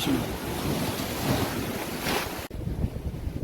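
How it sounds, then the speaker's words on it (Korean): Sea waves crash against Shimgok pier in Gangneung under a heavy swell, a continuous loud roar of surf mixed with buffeting wind noise on the microphone, with no voices. "이렇게 파도가 치고 어, 너울이 심해서"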